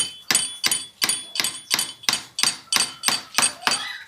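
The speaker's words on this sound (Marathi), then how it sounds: "इकडे 3 खिले मारून घेतो" Eleven sharp hammer blows land at an even pace, driving nails into a wooden frame for a Ganpati makhar decoration, each strike close, loud and ringing slightly.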